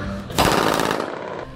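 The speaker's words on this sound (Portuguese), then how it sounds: "o outro jovem de bermuda amarela prepara a arma e efetua vários disparos" Rapid gunshots fired from a jet ski near a waterfront residential area, a loud, harsh burst of overlapping reports lasting about a second before trailing off.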